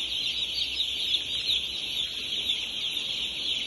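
Chicks in a large poultry shed holding thousands of birds: a dense, continuous chorus of high-pitched cheeping, steady and unbroken throughout, with no talking.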